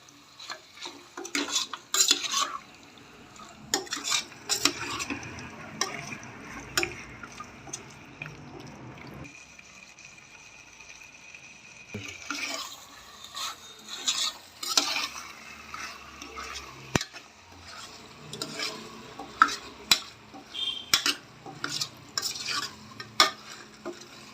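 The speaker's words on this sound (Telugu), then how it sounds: "ఇప్పుడు బాగా కలపాలి ఫ్రెండ్స్." Mutton curry being stirred in a pan, with repeated scraping and clinking of a spoon against metal, a soft sizzle underneath, a brief quieter pause midway, then steady stirring resumes; no one speaks.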